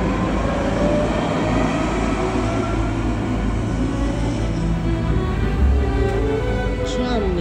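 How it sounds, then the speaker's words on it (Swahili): A tram rolls along a street track shared with cars, giving a loud, continuous rumbling roar with metallic rail whine throughout, and voices can be heard over the rumble. "Tram ni kama treni"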